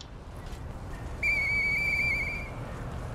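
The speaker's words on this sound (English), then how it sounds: "I know that whistle. It must be Murphy." Someone blows a whistle once, giving a clear, steady tone that lasts a little over a second before it stops. Soft background hiss surrounds it.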